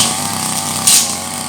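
A motorized weeding machine clears ground under oil palm trees, its small two-stroke engine buzzing steadily and loud at close range, with a brief higher whine partway through.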